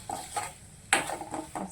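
Drumstick pods being stirred in a metal cooking pot: a handful of close, quiet clinks and scrapes in an uneven rhythm, with no talk over them.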